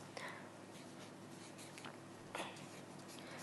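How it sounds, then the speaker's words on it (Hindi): A pen writes a name by hand on a sheet of white paper, giving soft, scratchy strokes close by with a few brief louder scrapes, under steady low background noise. "तो देखिए, इस तरह आपको इस पर नाम लिखना है"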